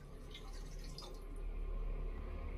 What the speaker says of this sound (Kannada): ಒಂದು ಗ್ಲಾಸ್ ನೀರು ಹಾಕ್ತೀನಿ ಇದಕ್ಕೆ.